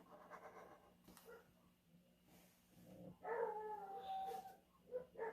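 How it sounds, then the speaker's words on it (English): Dogs bark and whine in the background of a quiet room, distant and muffled at first, then louder yelps and a drawn-out howling whimper toward the end. "You can hear my dogs barking in the background."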